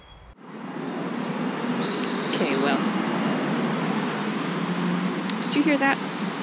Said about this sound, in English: That just singing now, a wren.